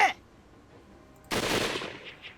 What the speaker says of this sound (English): That gunshot just now.